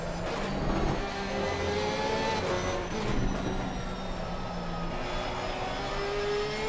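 Porsche race car engine heard onboard at Suzuka circuit in a console endurance racing game, a sustained high whine climbing and dropping through the gears over several seconds, loud and close with no talk.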